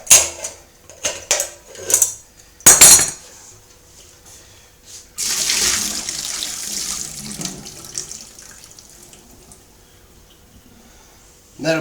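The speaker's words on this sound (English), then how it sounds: "just rinse it a few times with cold water is what I usually do" Cold tap water running into a kegerator keg as it is rinsed, with clanking metal knocks at first, then a steady rush of water, and a voice speaking over it.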